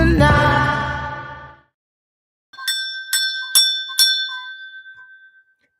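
A bell sound effect rings out alone in several quick, bright strikes with a sustained high ringing tone, following a pause after fading music.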